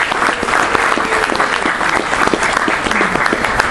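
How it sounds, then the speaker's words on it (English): Rotary club members at a Duck Dash gathering burst into loud, sustained applause, thick continuous clapping with a faint murmur of the crowd beneath. "we need to give a big round of applause for them"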